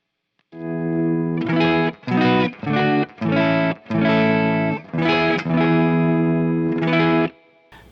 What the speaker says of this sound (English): roll in the volume until you think you've got a good clean-ish type sound like this